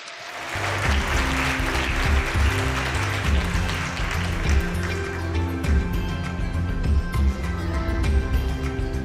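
An audience at a youth policy forum claps continuously to welcome presenters onto the stage, dense and loud applause that fills the whole stretch without letting up.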